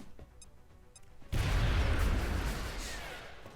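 Frag grenade going off in XCOM Long War: after a quiet stretch with faint clicks, a sudden loud, broadband blast with heavy low rumble erupts and sustains, slowly fading over a few seconds.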